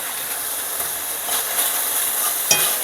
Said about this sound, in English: I'm going to add a little butter to this now